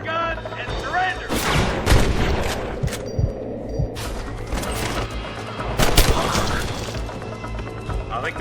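Gunfire in the Red Dead Redemption video game during a shootout with outlaws holding hostages: loud, sharp shots crack out irregularly in close bursts over a continuous busy background.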